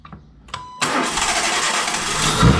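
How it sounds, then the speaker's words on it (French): A Renault Megane 2 with a 1.6 16v engine cranks briefly, then catches and starts, settling into a loud steady running roar that rises slightly near the end as it is revved. "Donc là, tu accélères, enfin, tu démarres et tu essaies d'accélérer."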